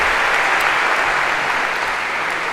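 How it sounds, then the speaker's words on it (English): Sustained applause from a lecture-hall audience fills the room, dense and steady from start to finish, with no speech over it. "Perhaps a round of applause for our special Professor Gav."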